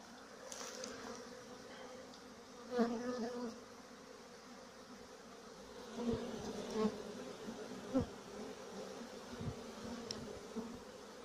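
Young honeybees hum in a low, continuous drone on orientation flights around a hive at an apiary, swelling in a few louder passes as they circle close, with no voices.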